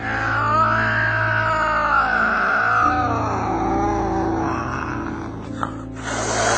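A cat growls low and continuously, a sustained rumbling snarl held close and loud for several seconds before easing off near the end.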